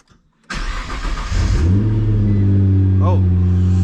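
A Nissan GT-R engine cold-starts with a starter whir, then fires into a rising rev that drops into a loud, steady, low idle, close by, with a brief voice over it.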